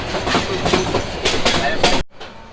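A train runs along a hill route toward Sylhet, its steady loud rumble carrying a rhythmic clickety-clack of wheels over rail joints before the sound cuts off abruptly.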